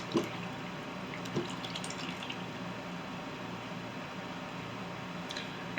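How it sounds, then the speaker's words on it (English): Whole milk pours steadily into a crock pot for a chowder, a continuous soft liquid stream with faint splashing and small drips, fairly quiet and close, with no talking. "I'm adding some whole milk to the crock pot."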